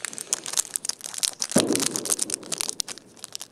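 Crinkly foil wrapper of a Yu-Gi-Oh! booster pack crackles and rustles in short bursts, with one sharper crunch near the middle as it is pulled open, close and fairly loud.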